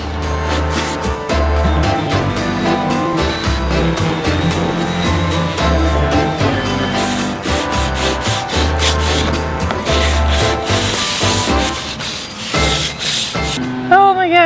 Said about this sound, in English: Oh my gosh, I'm done sanding.